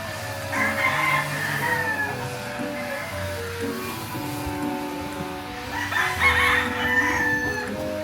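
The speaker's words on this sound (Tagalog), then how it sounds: "Alam na ng mga manok. Magkakagulo na sila." Roosters crowing at a Filipino gamefarm, with harmonic crows rising twice, around the start and again near the end, over a busy background of clucking fowl and faint human voices.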